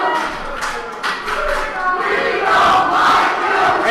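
Wrestling crowd at an indoor pro-wrestling event chanting together, a loud, steady rhythmic roar of many voices filling the hall with scattered claps.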